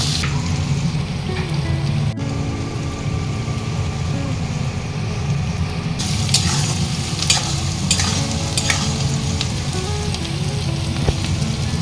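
Chopped onions frying in hot oil for a Bengali chicken kasha, with a steady close sizzle and repeated scraping stirs of a spoon against the pan; the sizzle brightens in the second half.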